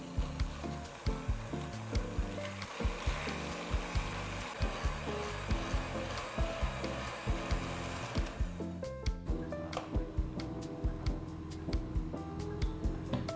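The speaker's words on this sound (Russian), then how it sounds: "Вымешиваю на высоких оборотах миксер до пышной яичной смеси, чтобы сахар полностью растворился в яйцах." An electric mixer beats eggs with sugar at high speed: a constant motor whir with regular knocking pulses as the beaters strike the bowl, the tone shifting partway through.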